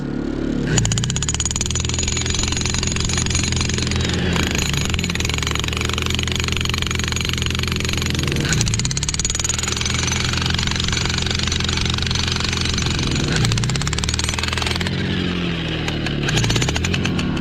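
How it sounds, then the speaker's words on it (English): Jackhammer breaking stone at an ocean picture stone quarry, a loud continuous rattling hammering that runs through the whole stretch, with brief dips every few seconds as the tool is repositioned; no talking. "The jackhammer doesn't have enough pressure, enough power to do that."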